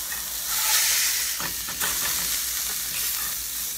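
Beef hamburger patty frying in a skillet: a continuous bright sizzle and hiss, close and loud, with a few soft scrapes and clinks of a utensil partway through.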